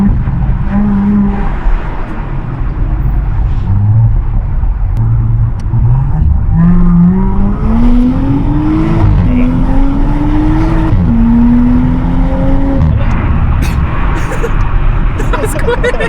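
A modified Audi S5 Sportback with downpipe and RS exhaust accelerates hard, its engine note climbing in steady rising sweeps through the gears, loud and close from inside the cabin, with tire noise and people talking over it.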